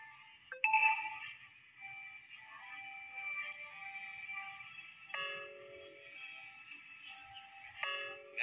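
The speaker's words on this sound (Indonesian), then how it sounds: "Bentar ada telepon masuk" A phone ringtone from an incoming call plays as a steady repeating electronic melody, moderately loud and close, with a brief knock near the start and no talk over it.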